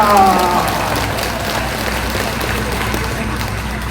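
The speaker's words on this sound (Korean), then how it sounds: "박수로 모시겠습니다." A large congregation at an outdoor Sunday worship service claps to welcome a preacher, making a broad, steady wash of applause that hisses like rain and stays even throughout, with a brief voice at the start.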